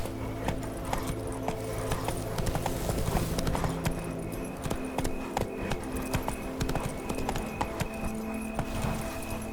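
Horse hooves clop in a steady galloping rhythm as Roach runs in The Witcher 3, over a dense game soundscape of music and ambience.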